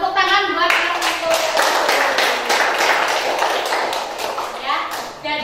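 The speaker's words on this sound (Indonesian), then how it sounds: "tepuk tangan buat Mas Endu." Classroom applause: a group of students claps steadily and loudly for several seconds, close by, with a voice briefly heard at the start.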